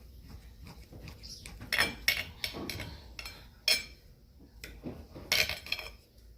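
A knife slices through a sous vide steak seared on a Blackstone griddle, giving faint scraping strokes and several sharp clinks of metal against plate or board, spaced irregularly and close by.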